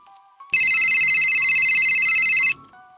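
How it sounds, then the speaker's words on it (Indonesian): A telephone on a desk rings in one continuous, loud electronic burst lasting about two seconds, with a faint low murmur of background noise beneath it and a quiet tone before and after. "menatap telepon di atas meja yang kembali berbunyi"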